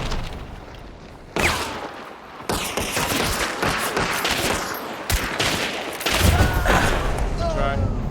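Rapid bursts of gunfire and heavy shots crack through a video game firefight, loud and close, with booming reports and voices talking underneath.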